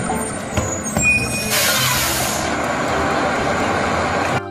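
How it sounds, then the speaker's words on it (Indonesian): A garbage truck rumbles at close range with a steady broadband engine roar, and a sharp hissing burst like an air brake swells midway and then holds before cutting off. "Ada mobil truk sampah teman-teman."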